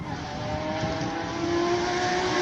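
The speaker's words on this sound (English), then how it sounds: "Alex Johnson heads over in the all-wheel drive Audi off the start line." An all-wheel drive Audi race car launches off the start line at a classic car speed event, its engine revving up hard with a rising, roaring pitch close by.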